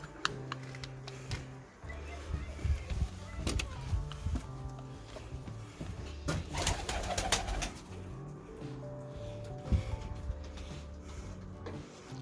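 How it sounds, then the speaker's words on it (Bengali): Pigeons coo inside a pigeon house, low throaty calls overlapping in a quiet room, broken by scattered clicks, taps and rustles of movement nearby. "অনেকগুলো কবুতর আছে"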